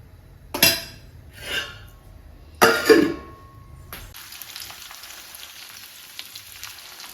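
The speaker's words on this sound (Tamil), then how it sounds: "இப்போ இந்த பக்கம் மீன் எல்லாத்தையும் வறுக்கிறதுக்கு சேர்த்தாச்சு" Fish frying in a pan gives a steady, fairly quiet sizzle in the second half, preceded by a few clinks and knocks of utensils against pots; no one speaks.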